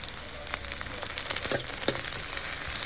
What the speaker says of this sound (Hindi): कांदा थोड़ा पक जाने के बाद मैंने ग्रीन चिली रखा था काट के, कच्चा लगा, वो भी डाल दिया।